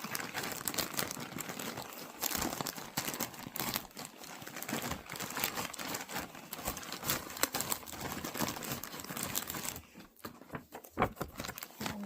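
Continuous crinkling and rustling of a thick plastic cross-stitch kit bag as it is handled close by, busy and uneven, easing briefly near the end.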